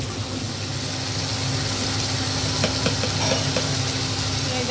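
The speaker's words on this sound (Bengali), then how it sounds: "দেখো কাতল মাছ ভুনা করার জন্য মশলাটা সব কষায় নিচ্ছি" Spice paste sizzling in a pan while being stirred for katla fish bhuna, a steady hiss with scraping stir strokes up close, and louder clicks and scrapes toward the end.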